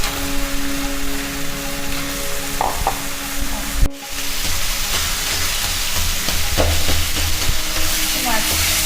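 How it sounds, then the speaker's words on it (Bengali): Hilsa fish heads frying in a pan with turmeric and oil, a steady loud sizzle and crackle with spoon scraping and a brief clunk midway. "এবার মাছের মাথাগুলো দিয়ে দিচ্ছি।"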